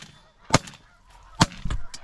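Geese honk loudly in three sharp bursts across an Alberta hunting blind, each call close and distinct with short quiet gaps between, heard alone without voices.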